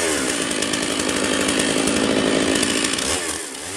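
Stihl 660 chainsaw with a 30-inch bar cutting into a large log outdoors, a loud close continuous high-revving whine that eases off near the end.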